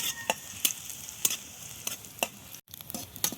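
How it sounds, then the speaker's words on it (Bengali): Onions fry in oil for a dal puri filling: a steady sizzle punctuated by regular scraping strokes of a spatula, close up, with a brief pause near the end and no speech. "এই দেখুন, পেঁয়াজটা ভাজা হয়ে গেছে।"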